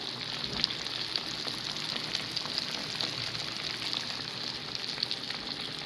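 Fish coated in Shan masala frying in hot oil, giving a steady, dense sizzle and crackle that holds evenly throughout, close and alone with no voices.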